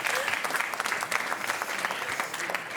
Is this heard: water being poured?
no